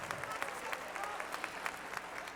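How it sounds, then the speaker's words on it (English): Applause at a Paint the Town Red 2017 event, an audience clapping steadily at some distance, faint and continuous for a couple of seconds. "let us give you a round of applause"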